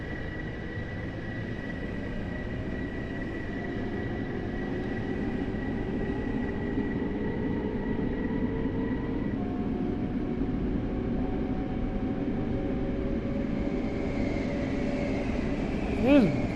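Distant trains rumble through the tunnels at New York Penn in Train Sim World 4, a steady low drone with faint tonal whines and squeals drifting in and out for several seconds.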